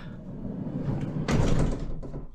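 A camper van door swings open and knocks against a fitted door stopper, giving one solid thud with a short clattering rattle amid a low background rumble.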